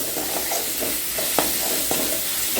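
Precooked chicken sautéed for a simple chicken curry crackles steadily in a pan, with a few brief scraping strokes of a spatula standing out over the constant close frying hiss.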